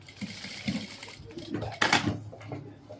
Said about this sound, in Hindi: ये पूरी सिलाई मारेंगे, मार्जिन कम नहीं, आधा इंच पूरा रहेगा मार्जिन